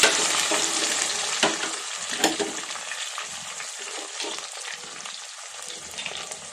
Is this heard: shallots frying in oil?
yes